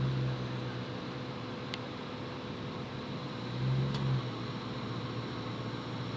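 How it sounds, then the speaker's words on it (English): A Mustang GT convertible's AC compressor runs steadily during a refrigerant recharge, a constant whirring engine-bay hum with a faint rise in pitch midway and two tiny clicks, close and without talk. "Well, the compressor is certainly not shutting off anymore."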